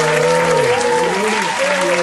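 A crowd claps and cheers steadily for a guest being welcomed at a live event in Harlem, New York City. Dense, continuous applause with whoops comes through close and loud.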